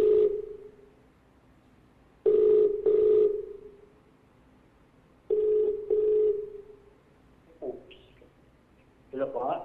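A phone line on a televised game show dials out and rings a contestant, with sustained electronic ringback tones in paired bursts separated by silence, loud and clear, followed by faint noises near the end.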